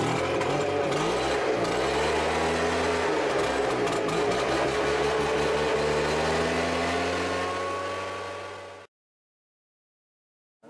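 Close, steady high-pitched drone of a Stihl 4-Mix two-stroke engine on a portable sprayer for coffee farming, with a couple of pitch dips early on before it cuts off abruptly, leaving silence.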